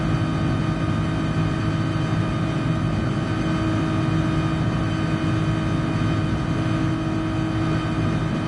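A 1954 Jaguar D-Type race car engine in GT Sport gives a steady, whiny growl, holding a constant loud drone with no pauses or shifts throughout.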